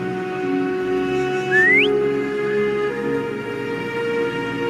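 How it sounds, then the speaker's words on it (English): A single short rising whistle in Wuthering Waves sweeps upward over a steady droning background hum, brief and clear. "Try whistling. Like this."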